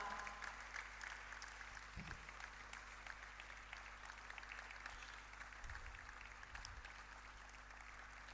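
A convention audience claps for a distinguished guest, a faint, steady patter of applause carrying through a large hall with some low background murmur.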